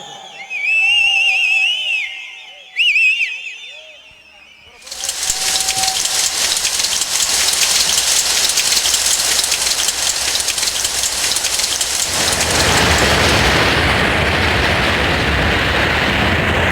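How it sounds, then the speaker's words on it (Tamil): Applause from an audience at a Vaikasi Pongal village festival near Kamuthi, Tamil Nadu. A voice with music comes first, then dense, loud clapping bursts in and holds steady for over ten seconds. "நல்லா கைதட்டுப்பா கைதட்டு."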